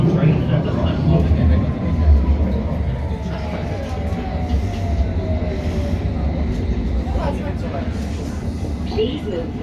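A London Underground Metropolitan line S8 Stock train runs with a loud, steady rumble from inside the car, while a thin, high whistle slowly slides downward in pitch over several seconds.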